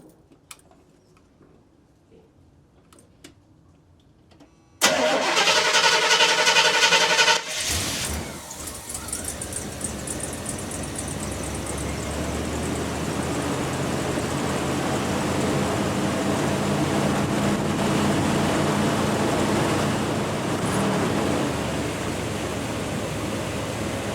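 A 1981 Chevrolet C10 Silverado engine with a newly replaced choke pull-off cranks to life after a few seconds of near silence, then keeps running with a loud, steady idle roar.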